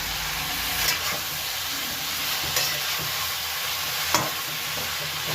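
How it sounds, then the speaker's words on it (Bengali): Spinach (cheese palak) and spices are stirred in a frying pan with a little added water, a steady soft sizzle running throughout and a few sharp scrapes of the spoon against the pan standing out above it. "ভালোভাবে নাড়াচাড়া করে দিলাম"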